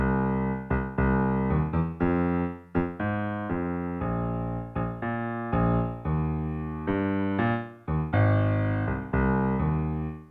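A keyboard plays a simple, bouncy low Latin-style bass line with the left hand in a steady syncopated rhythm, notes clear and close, with no voices.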